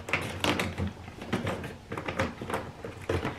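A collapsible plastic storage organizer is unfolded and snapped into its grooves, making a busy run of close plastic clicks, knocks and sliding scrapes in an irregular rhythm.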